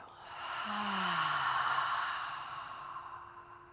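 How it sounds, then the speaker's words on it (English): A single slow, breathy exhale from a yoga class swells and fades over a few seconds, soft and close. "And exhale."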